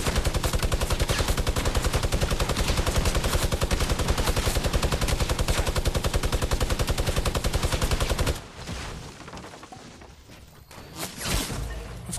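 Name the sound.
sniper gunfire in the video game Fortnite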